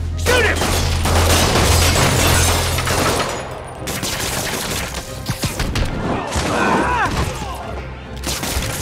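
Gunfire from criminals in the Spider-Man PS4 game, dense loud rattling shots mixed with crashes and mechanical clatter, with voices shouting amid the shooting.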